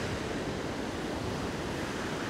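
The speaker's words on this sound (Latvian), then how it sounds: "tie viļņi, pasties kādi" Rough sea waves surge around a fishing boat, a continuous broadband wash of surf and wind noise that stays loud and steady throughout, with no voices.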